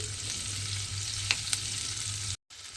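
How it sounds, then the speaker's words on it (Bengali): Onions frying in oil for a prawn curry with drumstick and potato make a steady close sizzle and hiss, broken by a couple of light spatula taps and a brief cut near the end. "এইবারে পেঁয়াজটাকে দেখুন এইভাবে একটু ভেজে নিতে হবে।"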